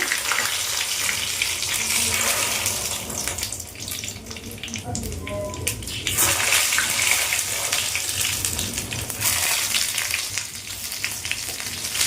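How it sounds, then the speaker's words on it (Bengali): Stuffed eggplant, held closed with sticks, fries in a pan with a steady oil sizzle and crackle, close and continuous, swelling in places, with occasional faint talk beneath. "আমি ভাজা চাপিয়ে দিলাম"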